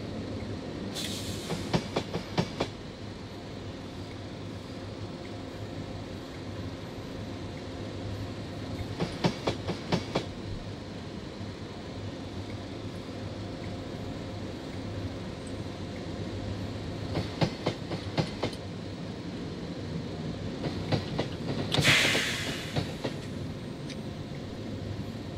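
A Class 31 diesel locomotive in Train Simulator 2018 rumbles steadily along the Woodhead line, a low continuous drone with clusters of rhythmic wheel clicks over rail joints and a brief sharp squeal near the end, no talk.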